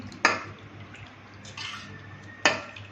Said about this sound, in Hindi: अब इसमें 1 गिलास हम पानी ऐड करेंगे, मिक्स करेंगे